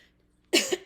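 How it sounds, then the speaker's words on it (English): Two or three sharp, loud coughs close by, coming after a brief quiet moment. "I'm so sorry, I keep coughing."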